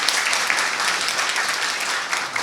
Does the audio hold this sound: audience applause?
yes